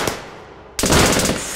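Gunfire in a science-fiction audio drama: a quieter shot or two, then a sudden loud burst of rapid automatic fire that continues steadily to the end, close and dense.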